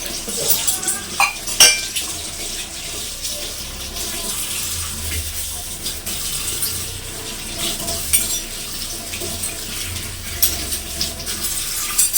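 Dishes and cutlery clatter and clink under steadily running water in a kitchen sink, with scattered metallic knocks across a continuous wash at close range.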